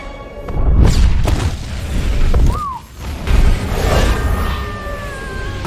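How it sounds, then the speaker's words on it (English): Nuclear explosion in the film Superman 2, heard as loud, rolling booms and rumbling bursts with a sweeping tone, swelling and receding over several seconds. "the nuclear explosion freed them"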